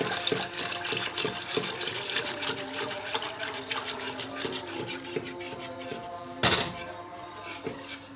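Milk being poured into a pot and stirred for a zucchini béchamel, a steady liquid pour and pour-like wash running close and fairly loud throughout, with light clinks of the pot and one brief louder rush near the end.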